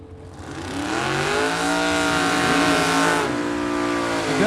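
Drag race cars, Super Pro bracket machines, roar down the strip together in a loud sustained engine howl with rising revs, continuous for several seconds and close by.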